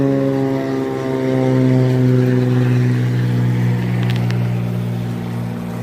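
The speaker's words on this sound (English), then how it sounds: "Sorry, plane." A propeller airplane passes overhead near a river where salmon are being fly fished, its steady, droning engine tone loud and close for several seconds, with no talking.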